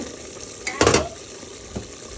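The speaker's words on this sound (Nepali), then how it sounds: "त्यो भुटनलाई भुट्ने विचार गरेँ" Goat meat sizzles in a hot pan with a brief burst of louder frying and stirring, then settles back to a low crackle.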